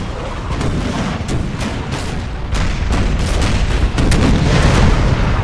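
Rapid carronade cannon fire rolls through a naval battle in Imperial Splendour, a dense, continuous barrage of booming shots with sharp cracks overlapping, loud and sustained throughout, growing heavier toward the end.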